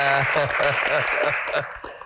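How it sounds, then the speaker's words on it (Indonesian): Applause from an audience runs throughout, with a voice talking over the clapping. "Tepuk tangan orang yang di sebelah kanannya."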